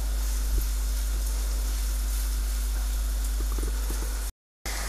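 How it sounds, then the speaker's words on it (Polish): Pork cutlets frying in very hot fat in a pan, giving a steady, dense sizzle with faint crackles throughout, close and continuous, cut by a brief dropout near the end. "kładę kotlety i smażę"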